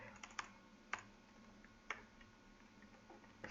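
Sparse, faint keystrokes on a computer keyboard as a message is typed, a few isolated clicks and short bursts spaced over a few seconds against quiet room hiss.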